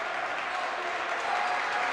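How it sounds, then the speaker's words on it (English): Both team benches clap at a high school boys' basketball game in a gym, a steady dense wash of clapping and crowd noise that runs through the short moment, with a commentator talking over it. "Both benches clapping, both benches rising to their feet."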